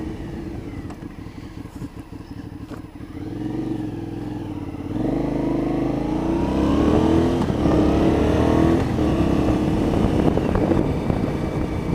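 An Aprilia Shiver 750 motorcycle ridden along a residential road, its engine droning steadily with a rising rev near the middle and staying loud and close throughout, with no talking.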